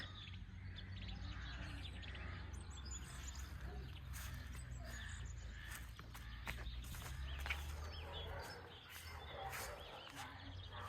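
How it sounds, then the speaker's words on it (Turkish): Faint birds chirping and twittering in the distance over a low rumbling background, quiet and scattered rather than a full chorus. "Sabahleyin böyle kuş sesleri."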